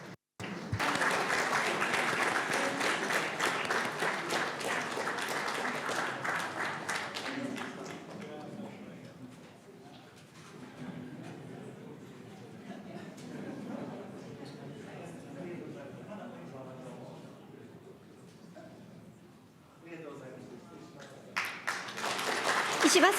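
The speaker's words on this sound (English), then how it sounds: "Another round of warm applause is in order." Sustained audience applause at a formal international dialogue event in Tokyo honouring Japan's Prime Minister, dense clapping for several seconds that thins and softens midway, then swells again to a loud burst at the end.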